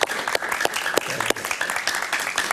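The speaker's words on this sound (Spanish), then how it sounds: "Un aplauso para Luis, por favor." Studio audience on a Spanish-language talk show applauding a guest, a dense continuous clapping that stays fairly loud and even for the whole stretch.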